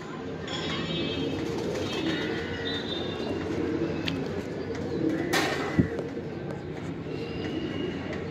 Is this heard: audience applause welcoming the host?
no